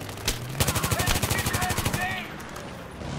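Rapid automatic machine gun fire rattles in a close, dense burst lasting about two seconds amid combat in the video game Battlefield 3, on Kharg Island in Conquest mode, followed by lingering battle noise.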